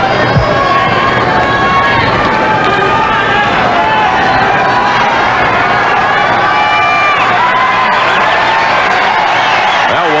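Crowd at a 1992 Agassi versus McEnroe exhibition tennis match in Korea, loud sustained cheering and shouting that fills the whole stretch, with a commentator's voice mixed in.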